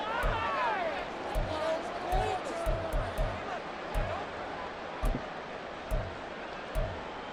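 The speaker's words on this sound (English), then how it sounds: "Listen to this crowd now." A steady roar of a stadium crowd in the football video game Madden NFL 24 fills the background, with rhythmic thumps and occasional claps cutting through, under commentary-style talk.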